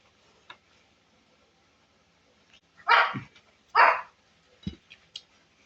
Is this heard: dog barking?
yes